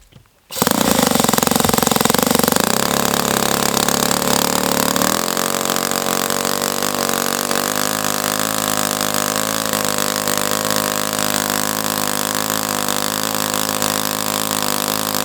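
An OS FS-120S-SP supercharged four-stroke model engine on its first run starts with a sharp catch, then holds a loud, steady, buzzing drone that settles into a slightly lower, even note. No one speaks.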